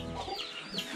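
Chickens cluck in a brief one-second burst at a rural home where the birds are being fed, including white hens, with several overlapping calls that are fairly close and clear, and no voices.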